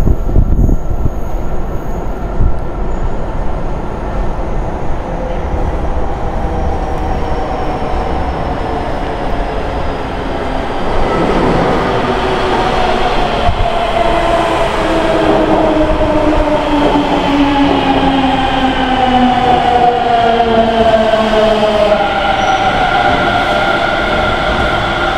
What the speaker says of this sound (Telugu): మెట్రో వస్తుంది చిమ్మ చీకట్లో ఉండి వస్తుంది చూడండి